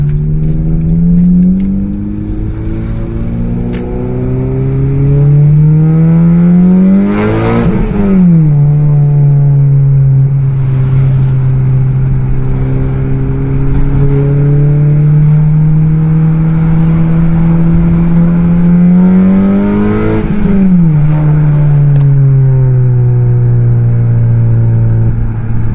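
A 2013 Honda Civic Si fitted with a Tsudo downpipe, short ram intake and cat delete accelerates hard. The engine tone climbs steadily through the revs, dips briefly at two gear shifts, then rises again, loud and close throughout with no talking.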